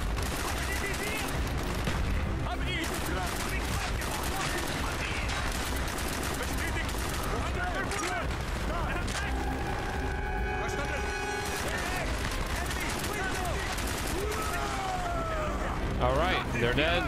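Call of Duty Black Ops gunfire rattles in bursts through a dense, loud game soundscape, with a person talking over the action.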